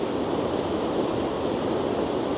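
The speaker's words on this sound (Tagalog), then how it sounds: "Ang lalaki ng alon." Big ocean waves at the beach along the esplanade in Tangier, a steady loud broadband roar of surf with wind noise throughout, no distinct breaks or pauses.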